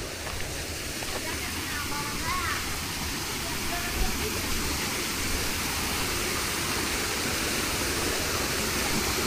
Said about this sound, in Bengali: ঝর্ণার গর্জন শোনা যাইতেছে